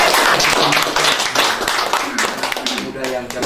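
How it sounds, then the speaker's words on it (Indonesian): An audience at a regional creative economy and small business event claps in a dense, steady burst, while a speaker keeps talking over it. "tepuk tangan dulu lah."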